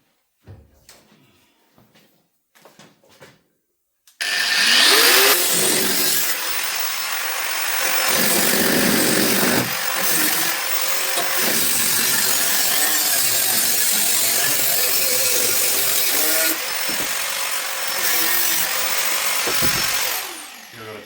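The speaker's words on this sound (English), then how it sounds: "Look at that grinder." Angle grinder cutting out rusted car body metal during rust repair, a loud, continuous abrasive whine and rasp that starts abruptly after a few quiet clicks and runs steadily with slight shifts in pitch and load.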